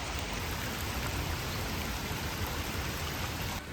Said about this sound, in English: it has been pouring rain, like absolutely pouring